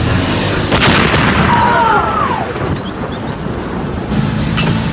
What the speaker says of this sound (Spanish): Kubitsch lanzó la granada del maletín